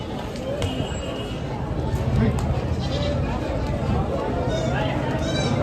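Osmanabadi goats bleating at a busy livestock market, several calls near and far over constant crowd chatter and people talking.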